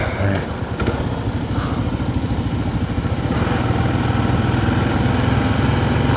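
Motorcycles out on the road in Eureka Springs, Arkansas: a steady, loud engine drone with a rising rumble as bikes pass close by, with no speech over it.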